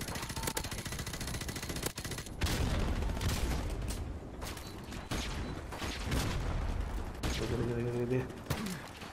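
Bursts of automatic gunfire and single shots crackle through a Call of Duty 4 Modern Warfare Remastered team deathmatch, with sharp impacts, explosions and mechanical clicks, loud and close in rapid uneven volleys.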